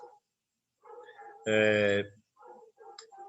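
A dog barks once, loud and close, in the middle of a home-recorded class, with a person talking before and after the bark.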